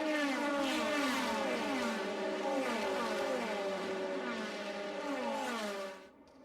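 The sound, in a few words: DTM race cars driving down Hockenheim straightaway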